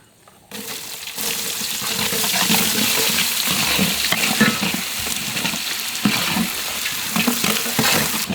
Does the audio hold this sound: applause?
no